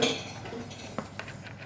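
Butter, flour, salt and pepper stirred together in a bowl toward a crumbly, granular mix, with a few close clinks and taps of a utensil against the bowl over soft background noise.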